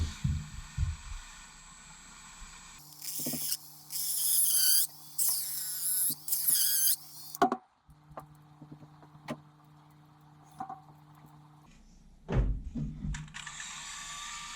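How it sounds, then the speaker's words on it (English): A Dremel rotary tool makes small cuts during a Prometheus brushless upgrade installation: two loud, high whining bursts of cutting separated by a quieter stretch with scattered clicks and handling noises. "So I'm just going to take the Dremel and make a small cut on both sides there."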